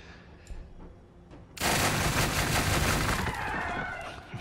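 Units firing in the strategy game Gladius Relics of War, a sudden dense burst of rapid gunfire that erupts after a quiet lead-in and rattles on loudly for about three seconds.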